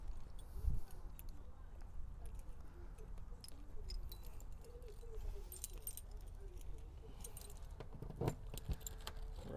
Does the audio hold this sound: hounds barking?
no